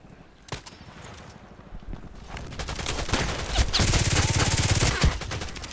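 Contract Wars firefight: scattered isolated shots give way to sustained rapid automatic fire that grows louder and denser, with overlapping bursts near and far.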